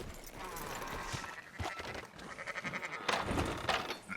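Sheep bleat in Red Dead Redemption 2, a few short wavering calls over busy background noise and clopping, close and moderately loud.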